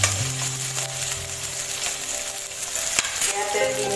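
A few green chillies sizzle and crackle in hot oil in a pan for an Assamese kachori filling, a steady close frying hiss with faint stirring scrapes and a soft clink.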